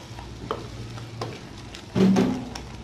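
Mustard paste made with garlic and salt is stirred into a frying hilsa curry, giving soft scraping stirs over a low sizzle, with a louder wet burst of sizzling near the end.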